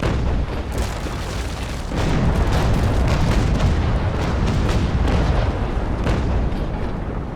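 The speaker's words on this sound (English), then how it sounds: "I find these broadsides to be grossly inaccurate" Cannon broadsides from a sailing warship in Naval Action roar in a long, dense barrage of overlapping booms and rumbling blasts, loud and continuous throughout.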